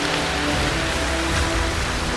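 Steady heavy rainfall drenches a forest camp beside a river, a thick, even wash of sound filling the whole moment with no talking.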